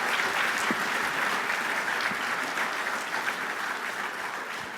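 An audience welcomes the CEO of the Fully Charged Show onto the stage with sustained, dense applause that stays loud throughout and fades slightly toward the end.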